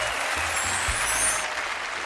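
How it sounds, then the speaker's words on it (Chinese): A television studio audience on a Chinese job-seeking talk show breaks into a steady burst of clapping that fills the room evenly before thinning toward the end. "掌声有请"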